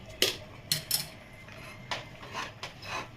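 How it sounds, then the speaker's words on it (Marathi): A metal cooking pot is set down and shifted at close range, giving a few sharp clanks and light scrapes spaced out over a quiet background. "आता पातेलं ठेवून घेते दुसरं, ते थंड करायला ठेवते टोमॅटो"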